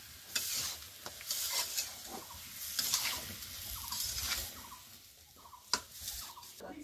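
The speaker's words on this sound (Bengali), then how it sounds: "তো এই যে আবারও ভালোভাবে কষিয়ে নেওয়া হচ্ছে।" Taro curry is stirred and sautéed in a pan, scraping spoon strokes over a low sizzle, with repeated clacks and one sharper knock near the end.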